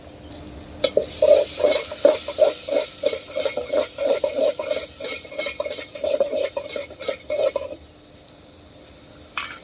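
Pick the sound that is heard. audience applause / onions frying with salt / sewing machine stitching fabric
onions frying with salt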